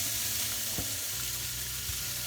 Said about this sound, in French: dans ma sauteuse, j'ai mis 2 cuillères à soupe d'huile d'olive et j'y verse mes oignons